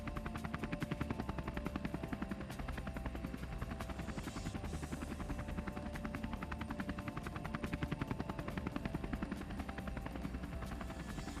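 A helicopter carries riders on a heliboarding day in the mountains, its rotor chopping in a rapid, steady pulse with a whining turbine hum underneath, continuous and fairly close.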